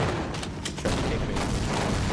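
Shotgun blasts in the game Half-Life, heavy booming reports in a dense, loud burst of combat noise with no clear pauses between shots.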